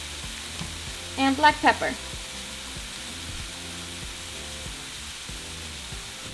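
Shrimp sizzle and fry in a pan with steady crackling while being seasoned, and a short burst of stirring or scraping is heard. A voice speaks briefly over the cooking.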